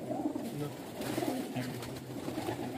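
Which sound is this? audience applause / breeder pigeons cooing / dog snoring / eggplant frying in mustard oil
breeder pigeons cooing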